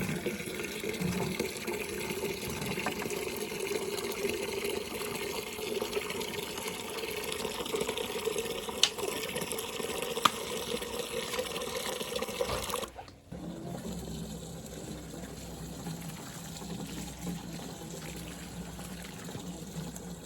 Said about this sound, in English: when you are watering tomatoes, it's important to try not to water their leaves directly and just water their roots.